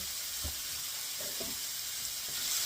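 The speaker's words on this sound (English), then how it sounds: "So, real quick, before I do that, I'm just going to give this a quick stir" Sauce for lasagna sizzling in a pan under a steady faint hiss, with a few soft scrapes of a quick stir, quiet and brief.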